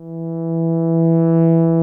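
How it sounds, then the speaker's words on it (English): A Buchla synthesizer sine wave holds one steady pitch with its overtones, swelling gradually louder as a rising function shapes its volume, sounding alone and close. "So here I'm controlling the volume of the sine wave"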